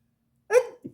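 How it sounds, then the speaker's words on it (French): One sudden human sneeze bursts out close and loud in a quiet room, followed by a short softer catch of breath. "Attendez, je vais éternuer."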